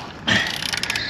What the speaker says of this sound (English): What I use after that is a ratchet.